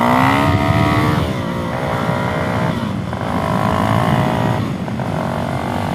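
A brand-new Suzuki DRZ400SM motorcycle engine fitted with a knock-off FCR 39 carburetor drops from a rev back toward idle, loud and close, its pitch sliding and wavering unevenly as it settles.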